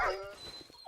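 A puppy in the survival game 7 Days to Die gives a single short yip that trails into a brief whimper, close and clear, lasting under a second.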